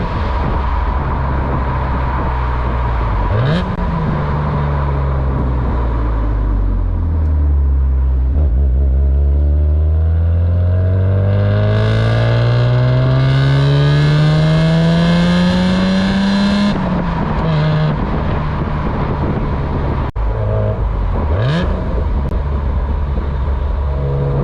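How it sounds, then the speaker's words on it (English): A euro-spec BMW E36 M3 engine revs hard and loud through twin exhaust pipes, the exhaust rising and falling in pitch through repeated throttle blips and a long climbing pull. "These twin exhaust pipes right here. This car is actually surprisingly loud."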